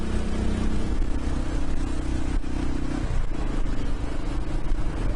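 A Royal Enfield Himalayan motorcycle engine drones at high revs, close and loud, with a brief dip in pitch partway through.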